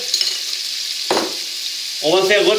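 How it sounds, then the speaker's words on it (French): Steady sizzling of meat and vegetables frying in hot oil, with a stirring scrape partway through and a brief burst of louder crackle near the end. "L'huile est chaude, on peut mettre la viande."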